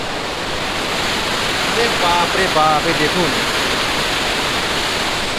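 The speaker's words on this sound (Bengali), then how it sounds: "আর নিচে বিশাল জোরে জল পড়ছে," Water pours hard over the Gajoldoba barrage on the Teesta river, a loud, steady, roaring rush that fills the whole stretch while a man briefly exclaims over it near the middle.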